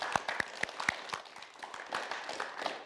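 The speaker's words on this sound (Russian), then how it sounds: "Спасибо, аплодируем." Applause from a studio audience on a Russian youth talk show, a burst of sharp claps near the start that thins into scattered, moderately close clapping across the room.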